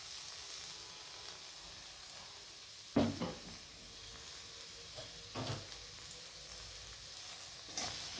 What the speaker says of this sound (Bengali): এবার তেলটা গরম হলে আমি দিয়ে দিচ্ছি এতে গাজর, মটরশুঁটি আর বিনস